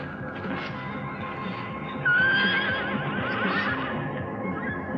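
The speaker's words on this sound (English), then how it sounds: "No, it was a horse, I'm sure of it." A horse lets out a loud, clear whinny about midway through, its shrill wavering call rising over a low background rumble of wind and surf on an island, with no speech.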